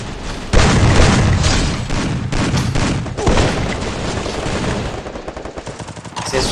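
Rapid bursts of video game gunfire crackle continuously, with heavy booming shots and dense automatic fire, loud and close throughout.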